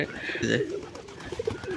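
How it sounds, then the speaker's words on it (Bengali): Pigeons being fed in the morning coo repeatedly at close range, their soft throaty calls rising and falling while a person talks nearby. "ভালোবাসার কবুতর"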